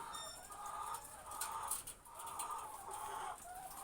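Laying hens at a Filipino egg farm cluck steadily in a dense flock, their calls overlapping at moderate distance with high peeps and a distant rooster note mixed in; no voices.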